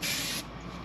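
A can of 3M Super 77 spray adhesive spraying onto a car headliner during a vehicle build, one short, loud burst of aerosol hiss lasting under half a second, followed by faint background noise.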